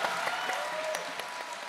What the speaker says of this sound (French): Ce sont des longs applaudissements, mais ils les méritent.